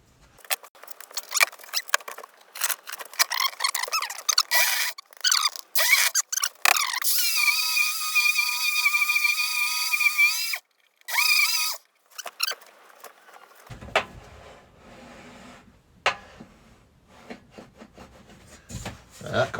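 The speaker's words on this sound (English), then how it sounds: "Yeah, I'll use the sander." A sander works a wooden zero clearance table saw insert in a series of short buzzing bursts, then one longer sustained run, up close, with scraping and handling noises between passes.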